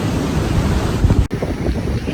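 Ocean surf washing onto the beach at Bunbury, Western Australia, on the Indian Ocean, a continuous rushing hiss of breaking waves buffeted by gusty wind on the microphone.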